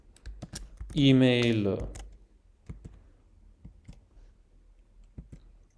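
Code being typed on a computer keyboard, a run of light, uneven clicks and taps spread through the clip, with a voice speaking over part of it near the start.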